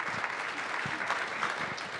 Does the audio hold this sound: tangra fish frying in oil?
no